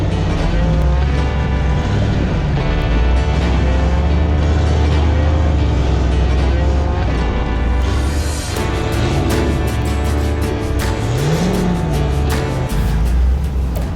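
Off-road rock crawler on 42-inch tires climbing a rock ledge on a canyon trail, its engine roaring loud and steady throughout with revving surges and no talk.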